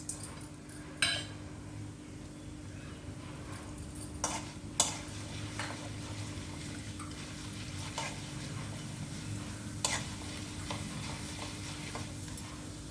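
Black gram and chana dal with spices sizzling in hot oil for a potato stir-fry, a continuous frying hiss with occasional clinks and scrapes of a spoon against the pan.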